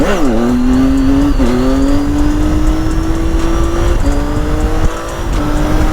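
A Triumph Tiger 800 motorcycle pulls hard in second gear, its engine note loud and close, climbing steadily in pitch with brief dips at gear or throttle changes over constant wind rush.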